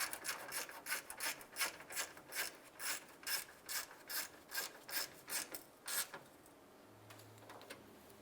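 A ratchet fitted with a 10mm socket snugs down a bolt on a 2001-2005 Honda Civic's radiator fan shroud, giving a steady run of about a dozen close, loud clicking strokes, then a short quiet stretch with a faint low hum.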